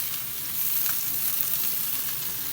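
Fish frying in a hot pan gives a steady, dense sizzle that stays loud and even the whole time, with no voices.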